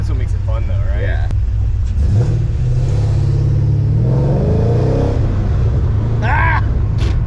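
An Infiniti G35 with a swapped-in LS V8 rumbles and revs loudly, the deep engine note rising and falling throughout while people talk and exclaim over it.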